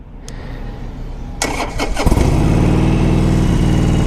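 A 2015 Harley-Davidson Sportster Forty-Eight motorcycle starts up close by: a short cranking burst, then the engine catches and settles into a loud, steady, rumbling idle, with no voices.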